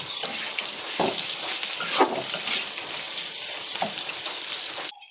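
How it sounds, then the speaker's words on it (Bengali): Fish sizzling as it fries in a pan, a continuous bright crackle with a few louder spatters, cutting off abruptly near the end. "আমি শুধু একটু মাছটা ভুনা করবো মাছ আমার ভাজি হচ্ছে"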